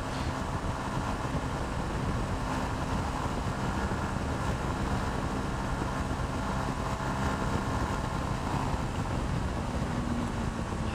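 A Yamaha YZF R125 125cc motorcycle cruising along a road, its small engine a steady continuous drone under heavy wind rush that stays loud and unbroken from start to finish.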